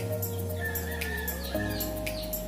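Newly hatched chicks in a DIY styrofoam incubator give several thin, high peeping chirps over a steady low hum of the incubator, close by and fairly soft.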